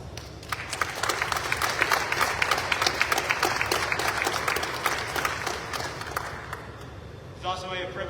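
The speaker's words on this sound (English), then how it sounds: "I'd like to take this opportunity just to give you a round of applause" Sustained applause fills the hall at a Navy retirement ceremony, dense clapping at moderate distance that holds steady for several seconds before fading, with a voice briefly heard near the end.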